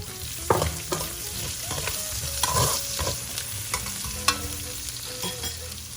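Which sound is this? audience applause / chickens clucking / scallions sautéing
scallions sautéing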